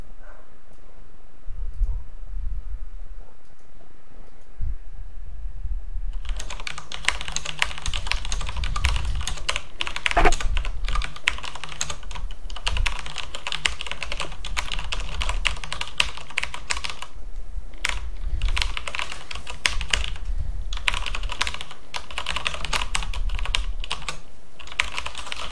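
Typing on a mechanical keyboard with black switches, a steady run of dense, fairly loud key clicks that keeps going throughout with no talk, after a quieter first few seconds.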